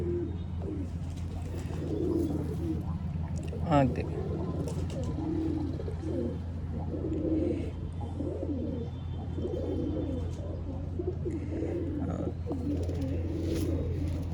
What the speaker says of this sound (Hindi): बाकी ये 4 कबूतर आप देखें